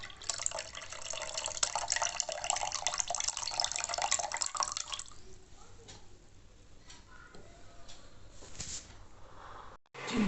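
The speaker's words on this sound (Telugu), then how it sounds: "పప్పులోకి చింతపండు పిసికి పోస్తున్నాను." Wet, squelching tamarind is squeezed by hand and poured into dal, a steady close liquid trickle that eases off halfway, leaving quieter drips and handling.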